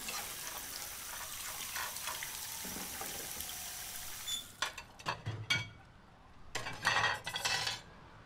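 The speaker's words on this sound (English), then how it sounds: "He just comes up, puts his dishes in the sink." Dishes being put in a sink clatter and clink in a few quick bursts after a quiet stretch of faint room noise, with softer knocks of crockery between them.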